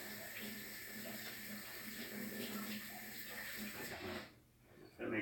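Tap water runs over a warm cherry picker handle in a garage, a steady hissing splash with a faint voice underneath, then the flow stops briefly before a short burst returns at the end.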